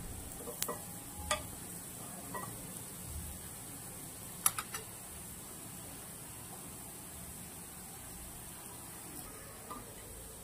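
Flour-coated brinjal slices frying in a pan, a faint steady sizzle with a few soft scraping clicks from stirring or turning, heard close and quiet with no voices.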